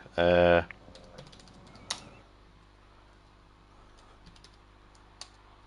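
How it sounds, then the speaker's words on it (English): A few scattered computer keystrokes tap faintly after a brief loud tone at the start, sparse clicks over a low steady background hum. "While Jimmy's typing away there"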